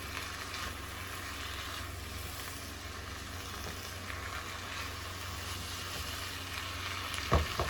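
Venison sizzles in a high-sided frying pan for a maple venison goulash, a steady crackling fry that stays even throughout, with a brief clatter near the end and no talking.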